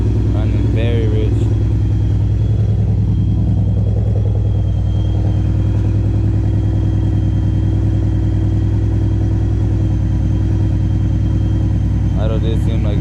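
A car engine idles roughly and runs rich in very cold weather after a new tune. A loud, steady, low rumble sits beneath someone talking throughout.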